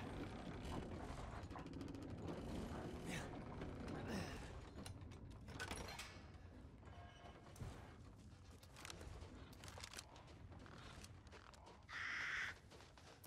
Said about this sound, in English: That's right, fuck off, crows.